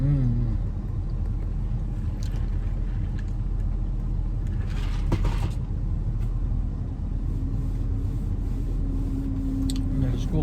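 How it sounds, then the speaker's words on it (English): A school bus rumbles past outdoors, a steady low engine drone with a brief louder swell midway, heard near and continuous. "There's a school bus."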